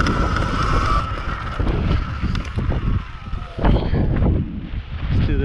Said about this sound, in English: God, there's a lot of wind.